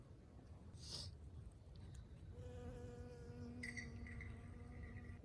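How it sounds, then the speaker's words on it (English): A bee buzzing around crimson clover in a garden cover crop, a faint hum with a brief louder pass near the mic, then fainter droning and outdoor background, alone without talk. "Hello, little bee."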